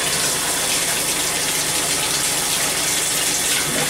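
Steady, full-force gush of water running from a tub faucet fitted with a Moen cartridge, a constant close hiss and splash with no break across the whole stretch.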